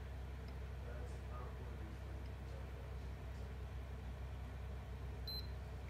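A single short electronic beep from a PS4 console rings out near the end over a quiet, steady background hum.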